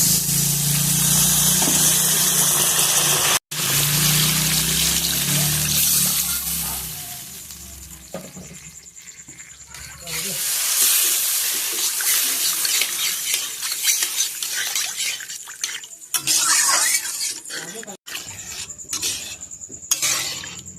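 Water poured into hot, cooked-down masala for an ilish fish curry with potato and pointed gourd in a pan, a loud hissing splash and sizzle that gradually settles into softer bubbling and occasional stirring clinks, with no talking.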